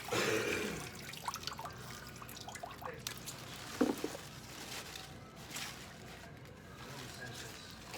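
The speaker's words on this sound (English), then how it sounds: "I'm just gonna drain this again" Water drains from a batch of mustard and turnip greens in a steady broadband rush with a few scattered splashes and drips, no talk.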